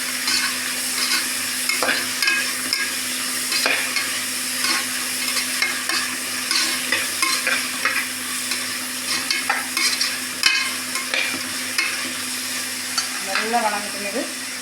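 Two tomatoes sautéing in a pan for beetroot biryani, a steady sizzle under frequent stirring and scraping clatter, with a brief voice near the end.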